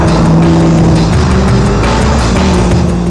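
A car is driven hard around corners, its engine roaring loudly and close with a constant, dense rush of road and tire noise, with no talking.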